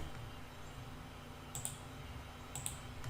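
Two faint, sharp computer mouse clicks about a second apart, set against a steady low room hum with no talking.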